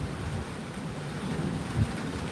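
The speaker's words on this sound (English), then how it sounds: "What you guys can hear in the background is thunder." Low, continuous rumble of thunder from a storm passing overhead during a backyard harvest in Australia, steady with a brief swell near the end, mixed with rain.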